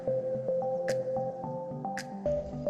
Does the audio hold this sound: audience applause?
no